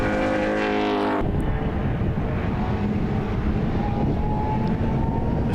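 A Ford Mustang and a Holden Monaro race at a WA Sporting Car Club circuit meeting. Their engines make a loud, continuous broadband roar. A brief harmonic engine whine at the start cuts off abruptly, then the rumble carries on steadily.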